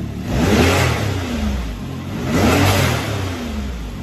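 An engine on a Can-Am Maverick X3 XDS turbo UTV revs twice in close succession, each rise followed by a breathy whoosh of an aftermarket turbo blow-off valve venting.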